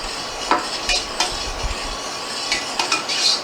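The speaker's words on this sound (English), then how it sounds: "I'm going to mix all this in." Utensil stirring and scraping teriyaki marinade in a bowl, with scattered clinks and soft scrapes at an irregular pace, close and moderately loud.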